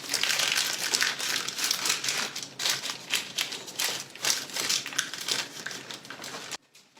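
Wrapping over a chocolate salami is folded at the ends, crinkling loudly in repeated close bursts before stopping abruptly; no talking.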